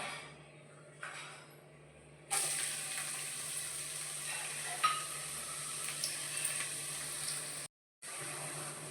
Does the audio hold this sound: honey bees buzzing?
no